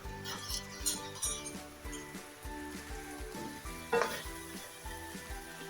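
Biryani gravy being stirred in a pot over heat, a steady sizzle with a regular rhythmic scraping and clinking of the spoon against the pot, one sharper clank partway through.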